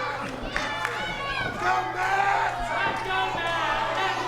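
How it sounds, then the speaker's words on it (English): Wrestling crowd at a Matt Hardy versus Fuego del Sol match, a steady mass of voices and shouting chants filling the arena, loud and continuous with scattered cheers. "there's people chanting Fuego, there's people chanting for Matt Hardy"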